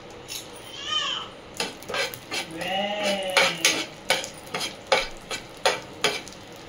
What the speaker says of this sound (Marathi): तूप छान वितळल्यानंतर आपण त्याच्यामध्ये खसखस टाकून घेणार आहेत लगेच।